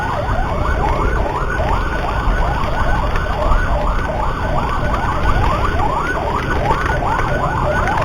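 Ambulance siren wailing steadily and loud in a repeating up-down sweep, heard from close behind on an Nmax 155 scooter riding through rain in Malang, with road and engine noise underneath.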